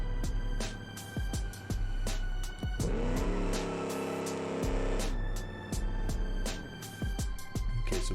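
A drag car launching without nitrous and accelerating hard, a loud, harsh engine roar with a rapid crackling, popping exhaust that swells into a sustained high-revving blast and then breaks back into crackles.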